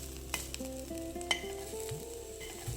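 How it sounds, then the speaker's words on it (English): Crushed garlic, cumin seeds and shredded coconut are stirred into melted ghee and kadhi. A quiet, steady sizzle runs under a few light spoon clinks and stirring knocks. "add a mixture of crushed garlic, jeera, and shredded coconut to the kadhi and mix it"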